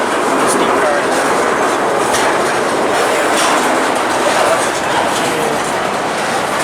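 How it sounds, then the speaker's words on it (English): A Belt Railway of Chicago freight locomotive and its cars roll past close by at a railroad fair, producing a loud, steady rumble with rhythmic wheel clatter over the rails throughout. "And this freight locomotive is still passing through."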